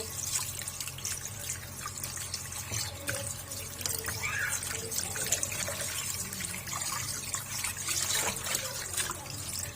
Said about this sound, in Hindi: अब गोश्त को इस तरह से वॉश कर लेंगे अच्छे से।